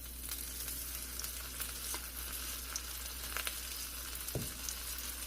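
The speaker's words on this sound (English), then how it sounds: "Well, I'm going to fry them anyway." Battered pieces fry in hot oil with a steady, close sizzling hiss, sprinkled with small pops and crackles and a brief stirring clink near the end; no voices.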